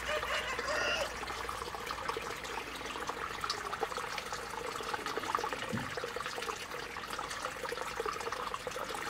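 Water runs steadily while a garden is being watered outdoors, a continuous broadband rush with a trickling, splashing texture that stays fairly constant throughout.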